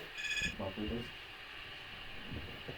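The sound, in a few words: telephone ringing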